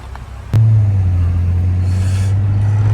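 An old-school car's engine rumbles steadily and loudly from the cabin while driving, starting abruptly after a brief quiet moment and then holding a deep, continuous drone.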